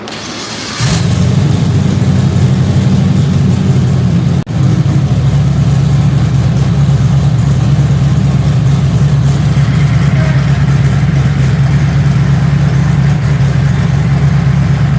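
A car engine on a dyno fires up about a second in and settles into a loud, steady, rumbling idle close by, with a brief dip partway through.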